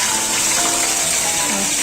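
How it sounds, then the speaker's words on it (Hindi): Water pours steadily into a pot of chana dal during cooking, a continuous close gushing splash that fills the short stretch without any speech. "तो अभी इसमें थोड़ा सा पानी डालेंगे।"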